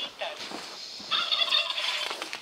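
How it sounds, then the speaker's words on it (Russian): A turkey gobbles in a rapid warbling burst, followed by a second louder gobble, fairly close and clear. "Индюк."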